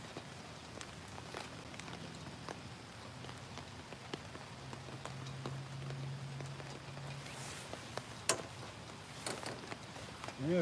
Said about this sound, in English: we're getting some pretty good rain right now.